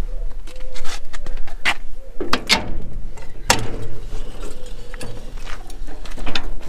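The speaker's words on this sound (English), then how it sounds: "you release your link arms and the pickup hitch drops" Vintage Ferguson tractor pickup hitch being released and dropping, a run of metallic clanks, ratchety clicks and knocks with a couple of sharper impacts, close over a low background hum.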